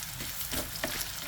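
Chunks of food sizzle steadily in a hot pan with a dense, even crackle and a few sharper pops, close and alone without talk.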